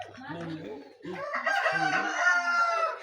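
A rooster crows loudly and close by, one long drawn-out cock-a-doodle-doo after some short clucking notes, in a rural Thai farmyard.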